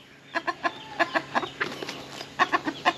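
Chickens clucking in quick bursts close by while being fed rice on the ground, a lively farmyard flock calling in uneven bunches.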